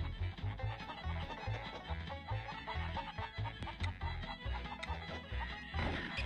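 Clucking chickens in the N64 game Chef's Luv Shack, repeated short hen clucks over busy game music and effects, steady and loud throughout.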